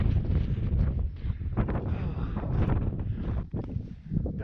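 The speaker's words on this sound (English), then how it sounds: "That wind does not care that you wanna bike. It just blows all day." Strong, steady wind roars and buffets a microphone in open country in Argentina on a bikepacking trip, a continuous loud rumble with gusting surges and no speech.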